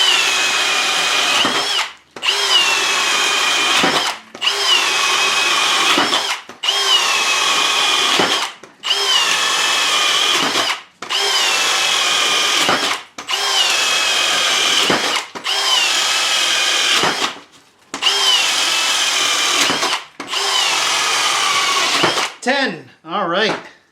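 A Flex 24V brushless cordless drill and a Milwaukee M18 Fuel take turns boring a series of holes, each one a loud, steady whine of about two seconds separated by short pauses, repeated roughly ten times.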